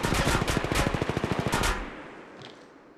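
Rapid automatic gunfire from enemies in the mobile battle royale game Apex Legends Mobile, a loud close burst of evenly spaced shots lasting over a second, then cutting off into a fading tail.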